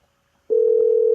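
Telephone ringing tone on an outgoing call: silence, then a steady single-pitch tone starts halfway and holds to the end, clear and close.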